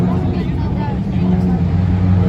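Race cars at Jackson Motor Speedway roar and accelerate together at a green flag start coming off turn 4, a loud, continuous engine drone heard close by, with a voice talking over it.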